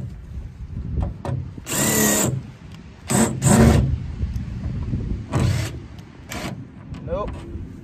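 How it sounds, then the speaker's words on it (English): A power drill spins in repeated short bursts while trying to drive sheet metal screws, each whine loud and close with pauses between, as someone talks intermittently. "let's see if these these sheet metal screws will actually go through this first."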